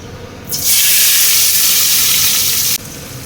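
Chopped onion dropped into hot oil with browned cumin seeds, a loud burst of hissing sizzle that starts suddenly, holds steady for about two seconds, then cuts off.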